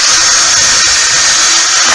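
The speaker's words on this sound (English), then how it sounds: "use the normal drill and be done with it." A handheld power drill bores holes in wood for a cottage-style coat rack with cubbies, giving a loud, steady, close whirring drone that holds without pause.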